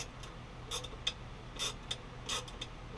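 A thread-cutting tap works into a small engine part on a Craftsman Gold Series 6.75 Briggs mower engine, giving a quiet series of irregular ratcheting clicks and ticks spread over a few seconds.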